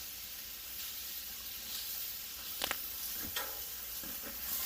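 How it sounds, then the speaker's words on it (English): A soft, steady sizzle of pork chops frying on a hot griddle, with a few faint clinks partway through. "Yep, I can hear the sizzle."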